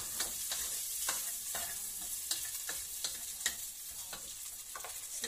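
Fried rice with sauce and sausage stir-fries in an oiled pan, a continuous sizzle under repeated sharp scraping strokes of a spatula at a steady rhythm, close and moderately loud.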